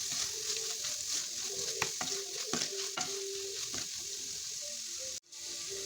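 Chicken fried rice with tomato sauce and soy sauce sizzles in a pan as it is stirred, with a constant close frying hiss and repeated scraping strokes of the utensil, plus a brief clatter near the end.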